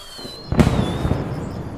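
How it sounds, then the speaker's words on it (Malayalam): A single sharp firecracker bang in a film soundtrack bursts out after a quiet moment, followed by a brief crackling tail over faint background tones. "ഒരു പടക്കം പൊട്ടുന്നതായി നമുക്ക് കേൾക്കാം"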